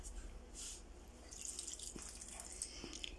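Water poured onto a potted plant drains through into a kitchen sink, a faint stream with scattered trickles and small drips, quiet and close, with no talk.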